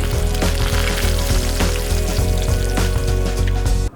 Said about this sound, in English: we fry the egg rolls